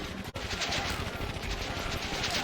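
Sustained rapid machine gun fire from an upgraded gun in the Warzone 2100 strategy game, a dense unbroken rattle that stays loud and constant throughout, with one brief dropout near the start.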